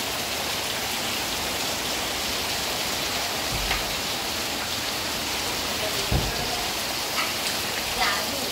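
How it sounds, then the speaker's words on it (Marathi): Continuous morning rain falls over the Konkan countryside, a steady, dense wash of rainfall on surfaces that holds an even level throughout, with a few slightly louder drops or splashes standing out briefly. "हा पाऊस बघा. फार सुंदर असा पाऊस, कंटिन्यू पाऊस आहे सकाळपासून."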